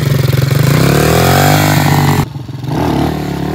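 A small motorcycle left unused for two months runs with a loud, rough engine note that rises in revs, then drops suddenly as it nearly stalls before picking back up, recorded up close.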